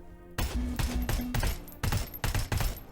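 M16 rifle firing in Terminator: Resistance, several sharp close bursts of automatic fire separated by short pauses, loud and punchy over a faint background.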